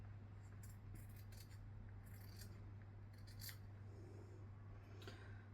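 Scissors cutting fabric down the middle of a collar piece, several quiet snips and rasping blade strokes in a soft, close, otherwise silent room.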